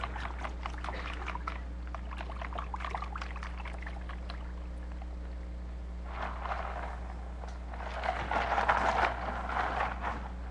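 Eggnog is whisked in a bowl. Quick, soft rhythmic scraping and tapping comes first, then wetter swishing bursts later on, all fairly faint over a steady low hum.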